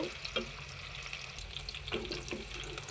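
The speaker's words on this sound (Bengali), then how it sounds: "অল্প একটু পেঁয়াজ কুচি দিয়ে দিলাম তো এটা বাদামি কালার হওয়া পর্যন্ত ভেজে নেব" A little chopped onion frying in a small amount of oil. A close, steady sizzle is broken by a few quick stirring scrapes.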